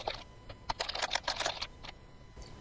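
Quick, uneven clatter of a computer keyboard being typed on up close, a burst of about a dozen keystrokes with short pauses, quiet and alone.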